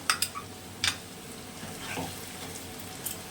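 Snake gourd frying in a pan with oil, a quiet low sizzle broken by a few brief stirring scrapes near the start and middle.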